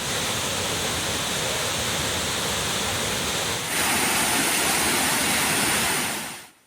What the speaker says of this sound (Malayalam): ചെക്ക് ഡാമിന്റെ അടിഭാഗത്ത് വിള്ളലുണ്ടായി വെള്ളം ശക്തിയായി പുറത്തേക്ക് ഒഴുകിയത്